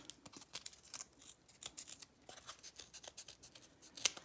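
Scissors snipping through corrugated cardboard along the flutes, shaping a piece for a homemade yarn loom; a steady run of quick, crisp close-up cuts with no talking.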